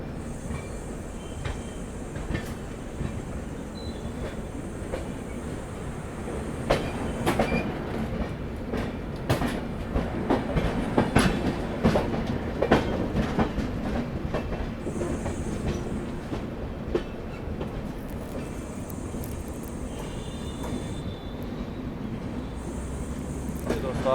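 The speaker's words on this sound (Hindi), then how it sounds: "तो यहाँ पर ट्रेन अपनी गाजियाबाद पहुँच रही है" The 22449 Poorvottar Sampark Kranti Express rolls along the rails approaching Ghaziabad, a steady rumble with clickety-clack wheel beats and occasional high squeals, heard close from on board over about twenty-four seconds.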